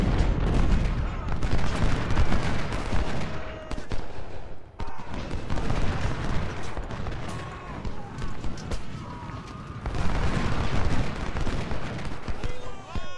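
Dense musket volleys and booming artillery fire from a Civil War battle in Ultimate General: Civil War, a continuous loud barrage of cracks and blasts rolling on for the whole stretch, surging again near the end.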